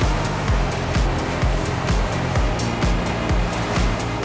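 Sacs Rebel 55 open motor yacht cruising at 20 knots and 1,700 RPM, a loud steady engine and rushing water with rhythmic thumps as the hull slaps waves about twice a second.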